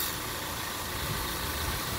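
A 2016 Subaru Forester 2.5 boxer engine idles quietly and steadily, a soft, even hum with no voices over it.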